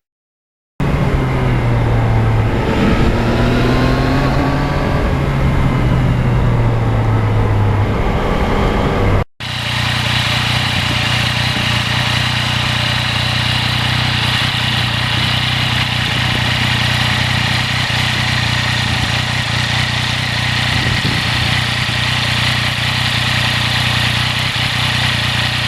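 A 2020 Yamaha MT-09 motorcycle engine while riding, loud and close, with rising and falling revs early on, then after a brief cut a steady droning hum at constant speed.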